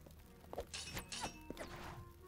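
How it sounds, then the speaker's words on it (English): Glass breaking in the video game Pseudoregalia, with several quick shattering crashes and thuds close together over low game ambience. "Making glass noise."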